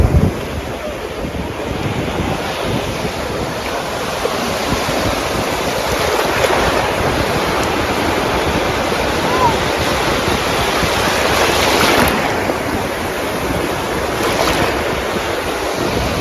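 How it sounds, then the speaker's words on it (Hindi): Ocean waves break continuously on a Goa beach at sunset, a loud steady surf roar with wind buffeting the microphone. "आप बस देखो लहरें"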